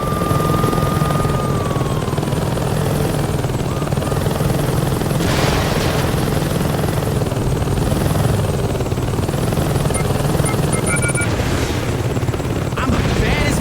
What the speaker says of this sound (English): You take a helicopter and blow those things up